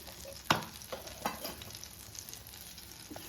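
Marinated chicken frying in oil, a quiet, steady sizzle broken by a few sharp clicks and pops from stirring or dropping pieces into the pan.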